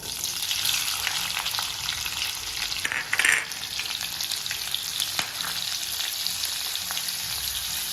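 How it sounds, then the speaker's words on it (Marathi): Big chopped onion fries in oil with cumin and mustard seeds for South Indian sambar, a loud, even sizzle running throughout with a brief burst of stirring or spattering midway and no voices. "आता त्यामध्येच आपण हा मोठा चिरलेला कांदा टाकणार आहे"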